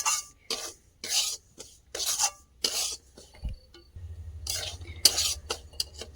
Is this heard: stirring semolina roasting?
yes